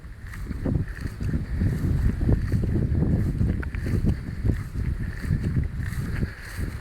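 Strong wind roars across an open field at a nature reserve near Bude in Cornwall, buffeting loudly and continuously with gusty surges and no talking.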